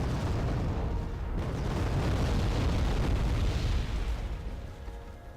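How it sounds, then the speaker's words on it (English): Bombs exploding in the Wargame Airland Battle video game, a dense rumbling barrage of booms merging into a continuous roar that fades out at the end. "He's already dropped the bombs"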